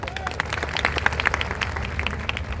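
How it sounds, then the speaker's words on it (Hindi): Audience clapping at a motivational seminar in Bhopal, a spread of scattered, fairly soft claps from a seated crowd with light murmur underneath. "बजाओ ताली"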